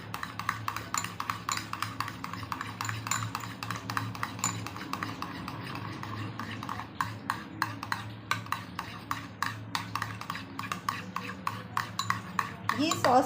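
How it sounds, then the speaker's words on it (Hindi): A spoon stirs and scrapes a bowl of dynamite chicken sauce mixed with chili sauce and paprika, with steady rhythmic clinks and knocks continuing throughout, close and clear. "अब इसको अच्छे से मिक्स कर लेते हैं।"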